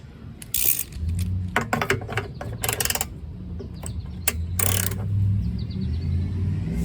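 A ratchet snugs a 1/2 inch bolt on an MTD lawnmower with quick bursts of clicking pawl sounds and metallic tool clatter, close up over a low background hum.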